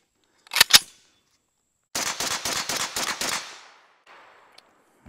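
A Kalashnikov USA KP-9 9mm pistol fires outdoors: two quick close, sharp shots, then a rapid string of about eight loud shots with a short echoing tail.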